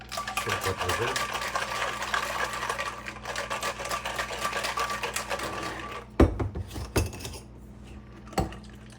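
Cocktail shaker with orange juice inside, shaken hard by hand in a home kitchen: a fast, steady rattling churn that runs several seconds, then stops, followed by a few sharp knocks and clinks.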